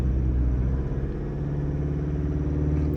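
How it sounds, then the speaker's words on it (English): The engine of a Mazda CX-5 being checked for low oil pressure runs at a steady, close, rumbling rev, a sustained throb that holds level for several seconds. "if I rev it"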